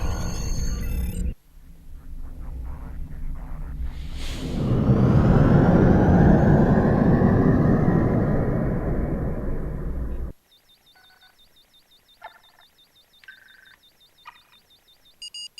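Starship thrusters firing at maximum as a vessel pulls out of space dock in Star Trek Online, a loud swelling low roar that builds over several seconds, holds steady, then cuts off abruptly into quiet electronic beeps.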